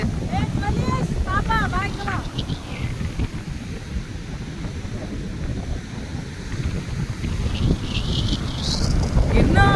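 Sea waves surging and washing onto a beach, a steady loud roar with wind buffeting the microphone, and people talking over it at the start.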